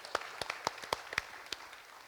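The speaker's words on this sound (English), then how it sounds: "please give a round of applause to yourselves for being here" A small audience of a few dozen people at an IIT Bay Area leadership talk claps briefly, scattered individual hand claps fairly faint in a room, fading out within two seconds.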